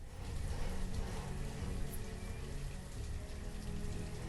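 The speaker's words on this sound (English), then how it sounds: "the rain is going to go away, I hope" Rain falls steadily in the city-building video game Banished, a dense, continuous patter with a constant hiss throughout and no speech.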